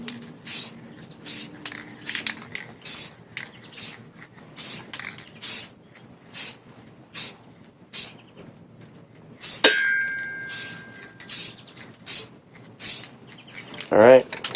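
Short hissing bursts of aerosol tint spray on a 2004-2008 Pontiac Grand Prix brake lamp repeat in a rapid, steady rhythm, close to the mic, with a brief clatter and rattle near the end.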